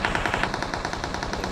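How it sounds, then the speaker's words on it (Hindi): Rapid automatic gunfire from the mobile battle royale game PUBG Mobile, a loud, steady stream of evenly spaced shots filling the whole stretch with no talking. "एक और बंदा है, गोली चला रहा है।"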